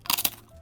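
Crisp bite into a palm-sized, sugar-coated Costco Krungji pastry with a glossy shell, two quick crunchy cracks close up, then fading to quiet.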